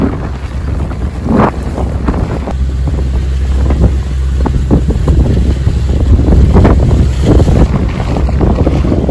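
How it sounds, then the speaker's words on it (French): A sailboat motoring against the wind at sea between Guadeloupe and Marie-Galante, with a steady low engine drone under heavy gusting wind buffeting the microphone and splashing waves, loud and close with no talk. "On va de nouveau être au moteur contre le vent"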